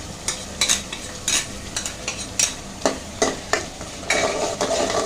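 Whole spices (bay leaf, cinnamon, cardamom, cloves) with cumin powder and green chili are stirred into chicken korma in a pan, producing repeated close scraping strokes over a light sizzle, no speech.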